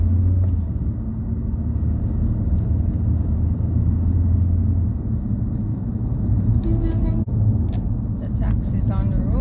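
Cars and taxis travel along Mona Road near a university gate, a steady low traffic rumble heard from inside a vehicle, with someone talking over it and a few clicks and knocks near the end.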